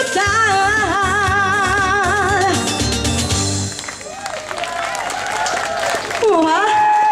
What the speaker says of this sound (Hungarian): na mit szólsz ehhez a nagy tapshoz?